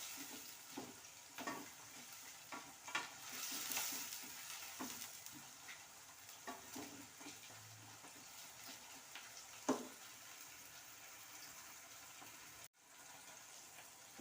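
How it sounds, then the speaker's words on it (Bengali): Tomatoes fry in a pan with a low, steady sizzle, broken now and then by soft scraping and stirring, heard quietly and close with no talking. "এবার এইটাকে সুন্দর করে ভাজবো"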